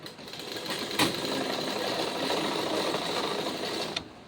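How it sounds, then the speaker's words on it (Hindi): A sewing machine runs continuously for about three seconds, stitching a blouse with a long basting stitch, with a steady close whir that starts and stops sharply and no talking. "चाल बड़ी करके इसकी सिलाई को हम कंप्लीट करेंगे"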